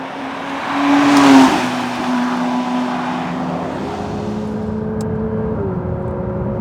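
A Porsche 992 GT3 RS drives along an A road in sport mode, its engine droning steadily from inside the car, swelling as it revs and shifting pitch with gear changes, with no talking.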